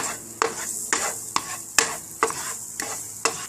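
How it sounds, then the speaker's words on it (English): Onions sautéing in melted butter and olive oil in a pan, with a steady soft sizzle broken by regular stirring scrapes roughly every half second, close and moderately loud, no talking. "Let's add the onions and saute the onions for about 30 seconds"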